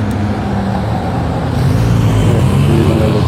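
Cars of a king's motorcade pass by on a road, a steady broad traffic rumble that swells louder in the second half as the vehicles go by close, with no talk.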